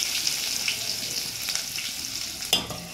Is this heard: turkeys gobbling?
no